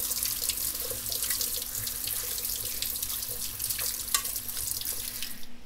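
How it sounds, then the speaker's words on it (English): A kitchen tap runs steadily into a sink as echinacea blossoms are rinsed beneath it, a continuous close splashing wash with scattered drips and pattering accents, no voices. "let's get these rinsed off."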